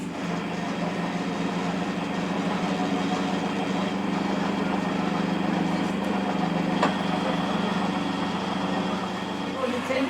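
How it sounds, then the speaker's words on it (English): A very old milk centrifuge on a Bavarian mountain farm separates fresh milk, giving a steady, loud mechanical hum with a low droning motor tone that runs unbroken throughout. "The milk is poured into the centrifuge."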